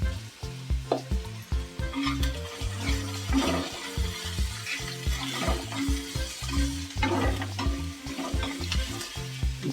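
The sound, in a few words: coriander powder sautéing in pan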